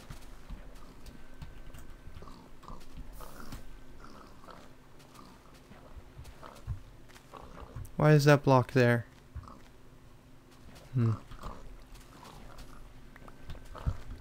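Pigs grunting in Minecraft during an obstacle-course map, a short cluster of loud oinks mid-clip and a briefer one later, with someone talking over quiet game ambience.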